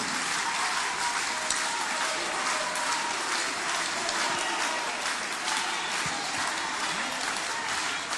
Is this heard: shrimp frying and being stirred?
no